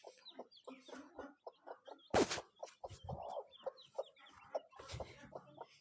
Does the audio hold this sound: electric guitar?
no